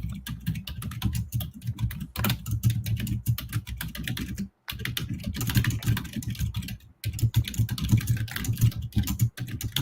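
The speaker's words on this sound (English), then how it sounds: "So how's everybody doing tonight while the clicking and clacking happens?" A computer keyboard clicks and clacks in fast, dense bursts of typing with a couple of brief pauses, close and continuous, with no one speaking.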